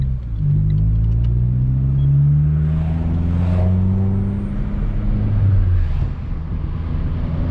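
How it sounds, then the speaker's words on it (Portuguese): A Renault Sandero RS engine roars loudly as it accelerates, the deep exhaust note climbing through the revs, easing off and pulling again, close and continuous with no talk. "O ronco tá bonito do carro"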